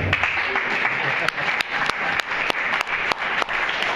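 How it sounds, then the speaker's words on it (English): A comedy club audience claps for a late-arriving woman, a loud, dense burst of applause punctuated by a few sharp, prominent claps close by, with possible voices mixed underneath. "Stand up, girl, they're clapping for you."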